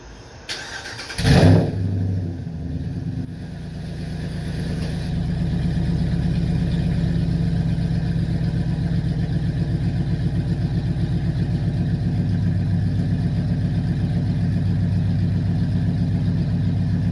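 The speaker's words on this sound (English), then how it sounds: "going to do is start up with open headers, American Racing headers with a cutout" Dodge Ram engine with open American Racing headers and cutout cranks, catches with a sharp bark, then settles into a loud, choppy, rumbling idle close by for a long stretch.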